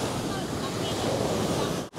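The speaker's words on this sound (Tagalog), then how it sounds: "sobrang lakas ng alon, delikado" Strong ocean surf rolls onto the shore at Indira Beach in Botolan, Zambales, a dense, steady roar of breaking waves with wind buffeting the microphone, loud and continuous until a brief dropout near the end.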